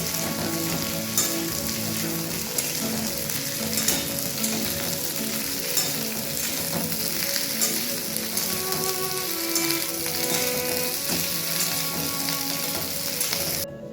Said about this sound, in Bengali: দিয়ে দিলাম ক্যাপসিকাম কাটাটা। এবার এটাকে একটু ভেজে নেব।